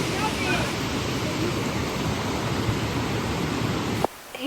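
Waterfall at Idaho Falls, a steady broadband roar of rushing water filling the whole stretch, loud and continuous, then cutting off abruptly near the end.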